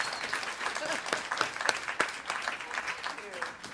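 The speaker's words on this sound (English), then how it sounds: "Let's give her another round of applause." Audience applause for a speaker at an evening talk, bursts of clapping from a modest crowd rising and falling, with a voice speaking over part of it.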